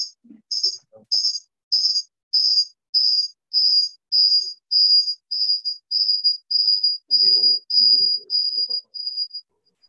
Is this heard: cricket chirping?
yes